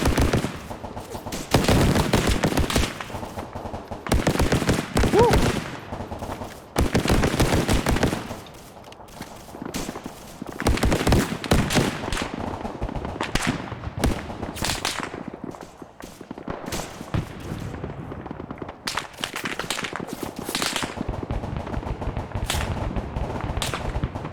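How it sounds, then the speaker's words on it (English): Sustained bursts of gunfire and heavy booming explosions in a video game, including explosive rounds and RPGs fired up a hill, loud and chaotic, with brief lulls between volleys. "Gunfire's starting to die down."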